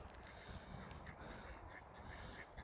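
Ducks quack and honk in a faint, busy outdoor chorus, calls overlapping against a constant wash of background noise.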